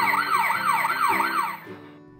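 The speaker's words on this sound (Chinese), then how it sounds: "警用卡车出发。" A toy police truck's electronic siren wails in a rapid repeating up-and-down sweep, loud and close, for about one and a half seconds before cutting off.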